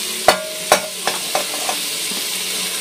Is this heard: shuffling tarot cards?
no